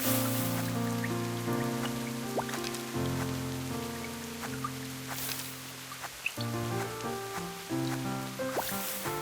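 Rain patters steadily on surfaces in rural Japan on the way up to a shrine. The soft, continuous hiss runs under prominent music with some scattered drips.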